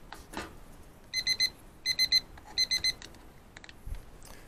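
A Maverick wireless meat and barbecue thermometer sounds its alarm, three rapid groups of three sharp electronic beeps, close and clear with some handling noise around them.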